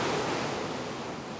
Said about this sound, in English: You'll understand when you see this and hear the sheer power in the winds gusting up over the lake